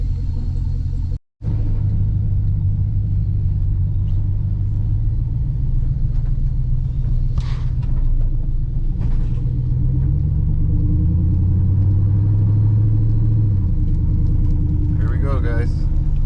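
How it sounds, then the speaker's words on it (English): A pickup truck drives along with a steady, loud low engine rumble that rises and falls with acceleration, with brief knocks and rattles from a suspension needing alignment. "So the truck does move."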